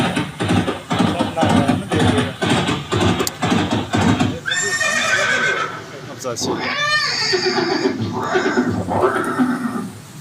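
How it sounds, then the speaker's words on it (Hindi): A horse representing Chetak, the loyal warhorse of Maharana Pratap, whinnies loudly in several drawn-out calls at close range. Steady clip-clopping hooves run through the first half, with voices and a busy crowd throughout. "ये दृश्य महाराणा प्रताप और सुविख्यात स्वामी भक्त घोड़े चेतक के अंतिम मिलन का है।"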